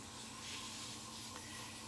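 Soft, steady rubbing hiss of sandpaper against cherry wood spinning on a lathe at 250 rpm, quiet and continuous without pause.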